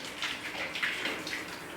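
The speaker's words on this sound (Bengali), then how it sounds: "জল ছেড়ে দাও, আস্তে আস্তে ছাড়ো।" Faint splashing of water over a body during a bath, poured from a mug in soft, uneven bursts, close but quiet, with no talking.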